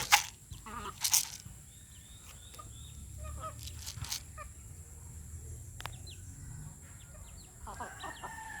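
Chickens clucking and calling around a yard, with a couple of loud sharp squawks near the start, then scattered softer clucks over steady background noise.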